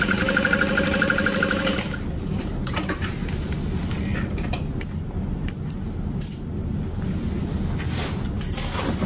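Sewing machine stitching through eight stacked layers of vinyl while making a duffel bag: a loud, busy mechanical clatter with rapid rhythmic needle strikes, close and continuous, with occasional sharper knocks as the machine strains.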